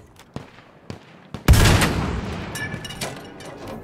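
A PAK 40 or 6 Pounder anti-tank cannon in Battlefield 5 fires one loud, sharp blast, its boom rolling and fading over a couple of seconds, after a few fainter distant shots of wartime battle.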